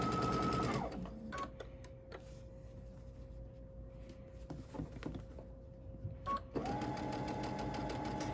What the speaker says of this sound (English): start by beginning our sewing at the edge of the liner